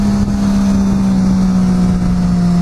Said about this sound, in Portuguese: é muito gostoso acelerar essa moto